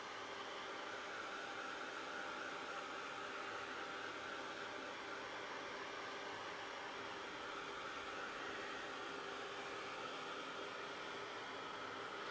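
A heat tool blowing hot air to dry acrylic paint, a steady unbroken whooshing roar, close and constant from start to finish, with no voices.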